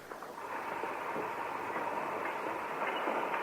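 Steam train running steadily through a radio drama scene, a continuous loud rumble with faint rhythmic clatter from the rails, no voices.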